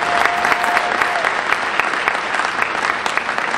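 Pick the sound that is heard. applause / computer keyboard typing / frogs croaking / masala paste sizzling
applause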